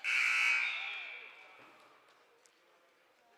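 A single loud electronic buzzer at a high school wrestling match sounds at once and then fades slowly into the quieter gym ambience over a few seconds.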